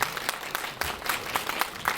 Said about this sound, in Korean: 지금 치는 박수는 여러분께 친 박수입니다.